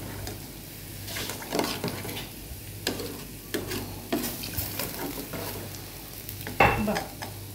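Rice goes into a pot of beef biryani and is stirred, with scraping and clattering strokes of a spoon against the pot at irregular intervals over a steady low sizzle and cooking hum.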